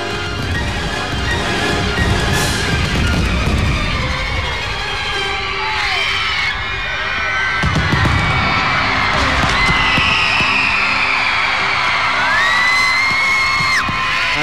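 Loud, dense bursts of Spanish fireworks booming and crackling continuously at the 1998 Singapore National Day Parade, with a crowd cheering and whistling throughout.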